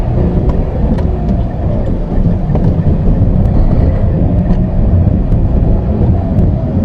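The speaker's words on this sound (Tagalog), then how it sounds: "Clutch all the way down, first gear, gas, clutch biting point" Manual car pulling away in first gear on an uphill road, releasing the clutch to its biting point and the handbrake, with a steady low engine drone and broadband rumble continuing throughout and no speech.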